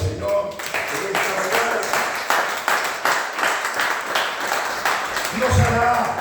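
A church congregation at a Christmas service breaks into sustained applause for several seconds, dense and steady, mixed with other sound and fading slightly toward the end.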